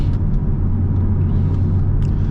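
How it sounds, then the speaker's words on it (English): A Chevrolet C5 Corvette's engine while driving fast, a loud, close, steady rumbling roar with no voices over it. "you obviously hear the engine and it's moving quick and things are rattling and shaking"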